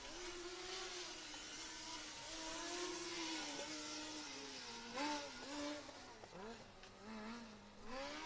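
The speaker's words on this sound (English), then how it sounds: "the car from University of Malaga, this internal combustion engine, turbocharged as well." A turbocharged internal combustion Formula Student race car from the University of Malaga revs and shifts at a distance during the 2023 endurance event, pitch climbing and dropping as it accelerates, fairly faint against open-air background noise.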